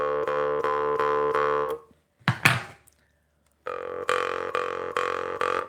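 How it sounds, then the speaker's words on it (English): Hobby Lobby jaw harp plucked in a quick twangy rhythm, with buzzing repeated notes, a short gap containing a breathy knock, then another run of resonant plucks. "here's a Hobby Lobby mouth harp"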